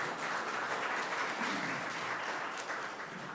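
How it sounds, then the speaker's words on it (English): Applause from the room for students at a St. Catharines city council meeting, a steady dense wash of many hands clapping that holds evenly throughout without fading, with no voices rising above it. "So round of applause for the students in the room today."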